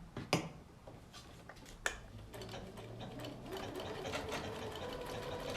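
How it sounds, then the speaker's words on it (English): A sewing machine runs steadily, stitching red thread on pale green fabric with a blanket stitch, its rapid mechanical chatter fairly faint and close, with a couple of sharp clicks near the start. "So I'm stitching on this pale green in red, and I'm going to stitch right down to the corner"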